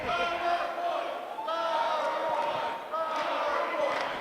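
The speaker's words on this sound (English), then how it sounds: "There's a PowerPoint chant starting to break out here in the Scottish Rite Temple." A wrestling crowd at the Scottish Rite Temple in Kansas City chants "PowerPoint" in a repeated, rhythmic group call, loud and reverberant, with voices swelling in waves.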